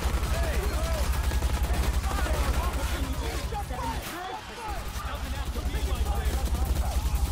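Sustained automatic gunfire in Watch Dogs during a fight with police, a dense steady rattle that drops out briefly before resuming at full intensity, with chatter and shouting mixed in.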